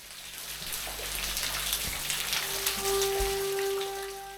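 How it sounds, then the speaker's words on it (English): Water trickling and spattering down the stone back wall of a rock recess in a wooded hollow, a steady close patter of drops and splashes with a few louder splats. "The waterfall finds its way down the back wall."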